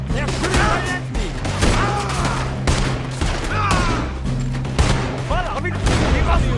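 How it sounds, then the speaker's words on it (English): Gunfire in Red Dead Redemption, a dense, continuous fusillade of rapid shots and booms under frantic overlapping voices. "They're shooting right at me!"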